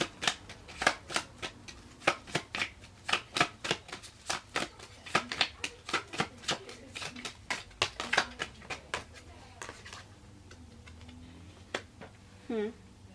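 Tarot cards being shuffled, a long run of crisp riffling snaps and flutters in quick irregular bursts, close and clear, with a short voiced sound near the end.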